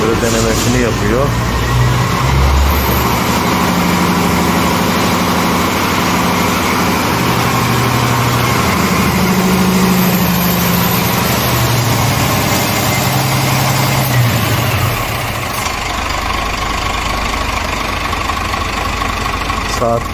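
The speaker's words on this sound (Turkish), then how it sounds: "Arabayı çalıştırıyor, denemesini yapıyor." A Scania truck engine starts and settles into a steady, loud idle on a test run after a repair, with a continuous low rumble and a slight dip in level near the end.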